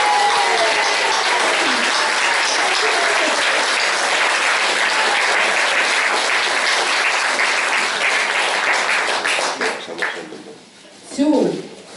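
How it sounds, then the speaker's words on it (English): Lively applause from an audience at a storytelling and song event in Kilbarchan, sustained and loud for about ten seconds before fading, followed by a brief spoken word. "Round of applause for P5 6, please."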